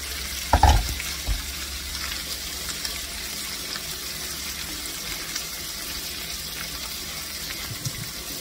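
Boiled, cut potatoes fry in a pan, a soft steady sizzle heard close and faint, with a few clattering knocks at the start and no talk.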